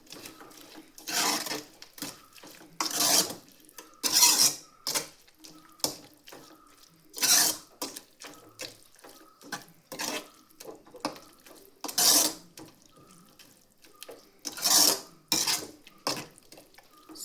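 Spinach gojju being stirred in a pan, with a spoon scraping and clinking against the metal in irregular bursts separated by short quiet gaps, close and fairly loud.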